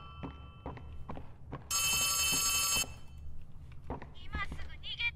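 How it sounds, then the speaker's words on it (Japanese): In Poppy Playtime Chapter 3, a telephone rings once in a loud, sustained electronic trill inside a house, framed by footsteps and a voice talking before and after. "電話鳴ってる。"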